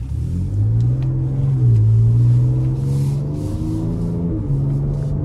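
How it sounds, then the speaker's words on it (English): A 2025 Ford Ranger Raptor pickup engine revs and accelerates with a deep, throaty exhaust rumble, pitch rising and shifting through gears, loud and close throughout. "I just love the sound of the exhaust. I love the sound of the engine."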